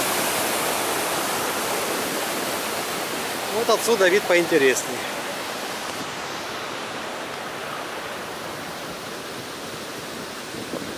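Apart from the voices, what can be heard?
Laxapana waterfall, Maskeliya, Sri Lanka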